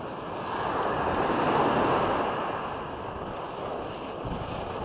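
Sea waves wash onto a clean beach at a motocamping resort in a continuous soft roar that swells and eases, with wind noise over the microphone.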